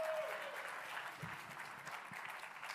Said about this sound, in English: Give Teresa a round of applause